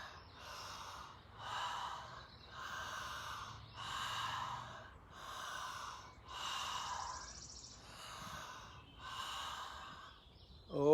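Slow, deep breaths during a chakra breathing meditation, about eight rhythmic breathy inhales and exhales rising and falling evenly, close and alone.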